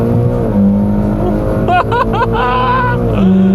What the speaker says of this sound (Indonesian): Kita akan coba rolling dari gigi 1 dan gue akan coba ngoper ini dari sini.